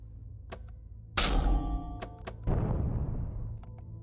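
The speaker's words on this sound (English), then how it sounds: "That is the sound of a Mark 54 LHT torpedo making contact with the hull of a vessel." A Mark 54 LHT torpedo strikes a vessel's hull. Sharp, faint clicks lead into a sudden heavy impact, then a second booming burst whose rumble slowly fades, with scattered ticks around them.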